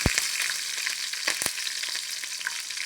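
Mustard seeds and cumin frying in hot oil for a vegetarian jackfruit curry, a loud close sizzle broken by a few sharp popping crackles.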